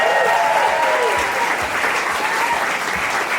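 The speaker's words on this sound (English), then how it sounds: "Round of applause," Wedding guests at a farm celebration break into steady applause, a dense wash of many hands clapping at moderate distance, continuous and unbroken for the whole stretch with a faint murmur of voices beneath.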